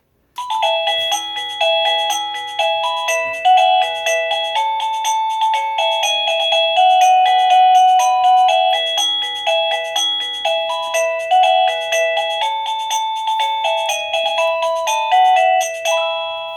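A Govee waterproof wireless doorbell plays ringtone melody number 10, a loud, bright chiming tune with a steady run of repeated notes lasting throughout, with no voices.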